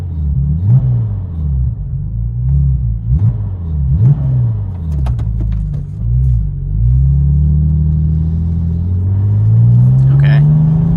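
A Porsche 996 Turbo engine with a Fabspeed aftermarket exhaust and 100-cell catalytic converters rumbles deep and loud, revving up and down in several bursts before climbing into a longer, rising rev.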